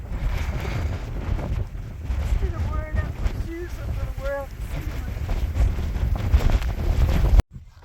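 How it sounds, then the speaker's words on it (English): Strong wind batters the microphone on a mountain top, a loud continuous roar and rumble with brief voices in the middle, ending abruptly. "It is amazingly windy up here right now."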